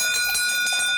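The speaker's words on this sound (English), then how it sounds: "ring this bell" A hand bell rung to scare off bears on a historic walk in Nagiso, Japan, gives a bright metallic ringing with a few quick repeated strikes whose sustained overtones carry through the whole short stretch.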